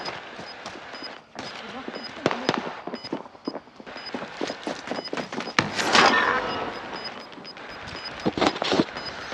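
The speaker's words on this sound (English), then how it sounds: "Receiving hostile fire." Gunfire and explosive pops fill a battle-royale style video game, with sharp shots scattered through the scene and a burst of heavy noise midway, while players talk over it.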